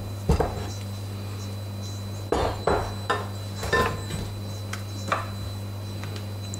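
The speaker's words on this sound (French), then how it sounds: "On va la couper dans sa longueur." A knife slices a peeled banana lengthwise for a banana cake, producing a handful of sharp, irregular clicks and taps against the cutting surface over a steady low hum.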